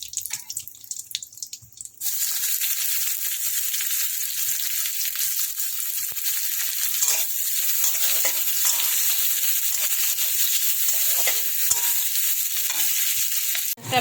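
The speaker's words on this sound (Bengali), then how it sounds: "ফোড়নটা ভালো করে ভেজে নিয়ে এর মধ্যে এবার আমি দেবো পেঁয়াজ।" Onions frying in hot oil with bay leaf and five-spice tempering in a village-style kitchen produce a loud, continuous sizzle that starts abruptly after a short quiet moment, with occasional stirring scrapes over the hiss.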